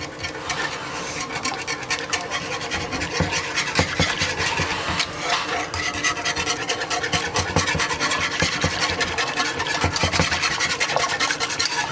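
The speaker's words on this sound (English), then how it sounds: "Let me get my handy dandy whisk." A whisk scrapes and rattles steadily in a pot, mixing sour cream into a chicken paprikash sauce, with continuous brisk scratching at an even, moderate level.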